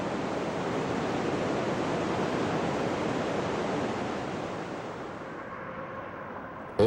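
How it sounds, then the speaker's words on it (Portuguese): Niagara Falls roars as a dense, continuous wall of rushing water, loud and broad, easing slightly toward the end with no voices. "esse enorme volume de água mergulha sobre as cataratas do Niágara"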